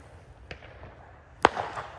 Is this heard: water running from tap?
no